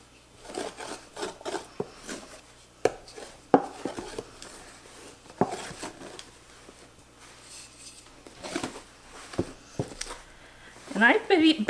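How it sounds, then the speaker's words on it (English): Whisk or spatula working sourdough bread dough in a bowl, giving irregular scraping, rubbing and tapping strokes close by, with a voice talking over much of it. "I basically just use my whisk or spatula just to start getting the dough combined"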